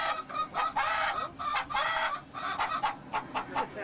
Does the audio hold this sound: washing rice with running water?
no